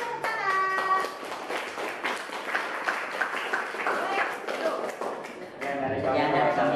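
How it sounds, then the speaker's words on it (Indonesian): A classroom of students claps for a presentation, a busy stretch of many hands patting unevenly, with voices chattering through the applause and a speaker talking near the end. "Kasih tepuk tangan."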